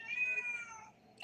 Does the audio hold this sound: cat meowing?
yes